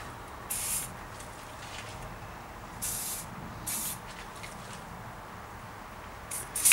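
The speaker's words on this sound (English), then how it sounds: "So let's spray some of that in there." Multi-purpose spray from an aerosol can shot into the seat tube of a 1989 Specialized Rockhopper mountain bike, three short hissing bursts with quiet pauses, close by.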